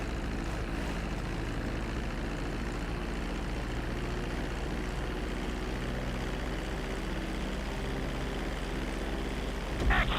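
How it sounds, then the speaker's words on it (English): Steady, loud propeller airplane engine drone in the video game GTA V as the plane descends to land on a runway, a continuous unbroken hum that holds level throughout with no talking. "reducing the plane's altitude gradually so you're just above the runway as you approach"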